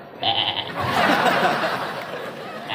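A voice mimics a goat's bleat during a Balinese comic stage performance: a short wavering bleat near the start and a brief one at the end, with a burst of crowd noise and laughter in between.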